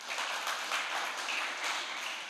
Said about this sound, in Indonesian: Ayo tepuk tangan dong bagi Tuhan.